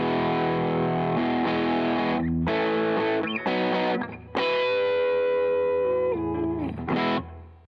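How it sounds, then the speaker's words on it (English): Electric guitar played through a Wampler Tumnus Deluxe overdrive pedal, loud and continuous with sustained distorted chords and riffs, brief pauses between phrases, no talking. "So this is our tone with just the Wampler on."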